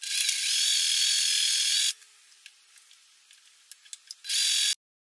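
A domestic sewing machine stitches the top edges of a tote bag in two loud, steady whirring bursts, separated by a quiet pause filled with small clicks and taps of fabric handling.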